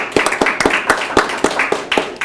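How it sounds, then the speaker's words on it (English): Clapping from a small audience at an expo talk, a sparse, uneven burst of a few pairs of hands heard close and fairly loud, with no talk over it. "Let's give a round of applause"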